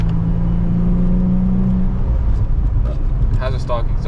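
A Nissan 350Z Nismo with a stock exhaust runs close by, its engine a steady mid-pitched drone that holds a tone and then fades into a rougher whir, with people talking over it.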